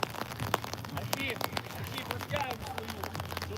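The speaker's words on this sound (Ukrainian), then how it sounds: "Дощ, вітер" Rain patters steadily on a surface with strong wind rumbling underneath at an outdoor football match, while voices talk faintly in the background.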